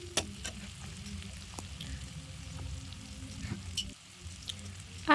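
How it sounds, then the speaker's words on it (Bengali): Spices frying in oil for a tripe and potato curry as a spatula stirs them, a low steady sizzle with a few sharp scrapes and clicks, briefly dropping near four seconds before a final scrape. "এটাকে খুন্তি দিয়ে ভালো করে নাড়তে চাড়তে থাকবো মশলাটা যতক্ষণ বাদামি না হয়ে আসে"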